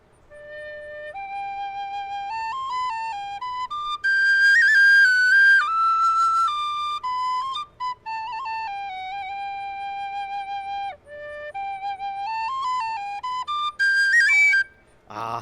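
Tony Dixon DX001 tin whistle playing the melody of The Minstrel Boy solo, clear bright sustained notes stepping up and down, louder piercing notes in the upper octave, with short breath gaps between phrases.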